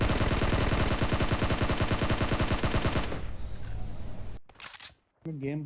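Automatic gunfire from AKM and M416 rifles in a shooting video game: a loud, rapid burst of shots for about three seconds, then fades into quieter game sounds with a few brief sharp noises near the end.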